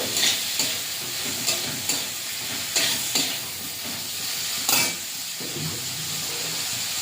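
Spice paste of ground cumin, ginger and coriander stirred in a hot oiled pan for a Malabar spinach and prawn curry: a steady close sizzle broken by several sharp spatula scrapes, with no talking.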